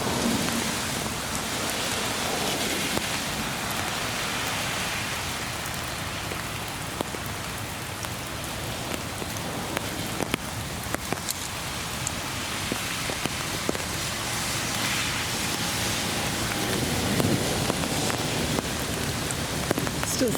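Steady rain falls through the trees of Saddler's Woods, a dense, continuous patter of drops on leaves and surfaces that holds for the whole stretch with no voices.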